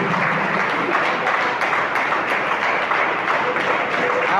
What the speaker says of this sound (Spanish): Dele un aplauso con alegría a ese Dios de la gloria.